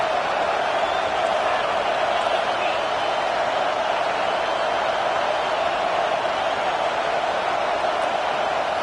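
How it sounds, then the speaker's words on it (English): A college football stadium crowd roars on a third-down defensive play, a dense, continuous wall of cheering with no pauses. "Decibels rising as the crowd gets behind this defense on 3rd down."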